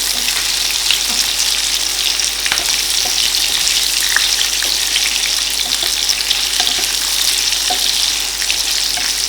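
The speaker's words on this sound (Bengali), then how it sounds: "সব কিছুকে মাঝারি আঁচে ভাজতে থাকবো।" Pieces of raw banana and mixed vegetables for shukto fry on medium heat, making a loud, dense, continuous sizzle with faint stirring clicks throughout, and no voices.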